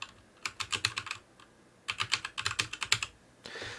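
Bursts of quick computer keyboard typing while entering a scenario name in Excel, two rapid runs of crisp keystrokes separated by a pause, close and alone.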